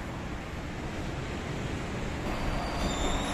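A small train at Kamakura station in Japan rumbles past close by, a steady broadband roll of wheels on rails with faint squealing, continuous and fairly loud throughout without any voices.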